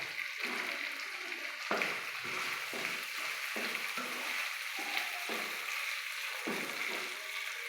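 Onions frying in a pan for chili chicken, a continuous soft sizzle broken by repeated scraping strokes of a spatula at a steady stirring rhythm, close and fairly quiet.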